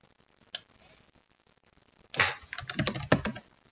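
Typing on a computer keyboard: one isolated key tap, then a close, fairly quiet burst of rapid clicking keystrokes lasting over a second, with no speech.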